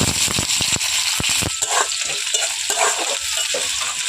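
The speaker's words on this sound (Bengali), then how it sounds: "এখন আমি কড়াইতে তেল দিয়ে দিয়েছি এখানে এখন দিয়ে দেব এখানে জিরে কুচনো পেঁয়াজ" Cumin seeds and chopped onion sizzle steadily in hot oil in a wok, a close, continuous frying hiss with a few sharp crackles and stirring scrapes near the start.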